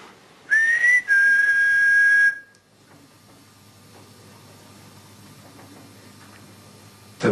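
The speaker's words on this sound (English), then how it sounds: "There was definitely a whistle there." A loud, clear human whistle, a rising note then a held steady tone for about two seconds, followed by a quiet room with faint hiss and small creaks.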